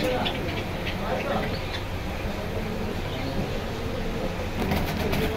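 Pigeons at the Jinjira bazaar pigeon market in Keraniganj, with soft cooing and flapping wings mixed into busy market background noise, while someone talks over it throughout.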